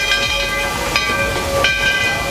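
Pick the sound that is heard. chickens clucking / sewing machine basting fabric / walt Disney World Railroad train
walt Disney World Railroad train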